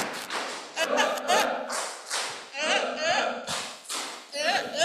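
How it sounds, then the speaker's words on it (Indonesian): An audience at an event performs a rhythmic spirit clap, bursts of patterned claps and thumps in quick groups, with voices chanting along amid the beat. "Tepuk semangat."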